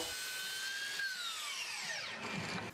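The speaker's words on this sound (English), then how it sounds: "I cut them to length at the miter saw." A miter saw cutting wood to length winds down, its blade whine sliding steadily lower in pitch over a few seconds, fairly faint, with no one talking.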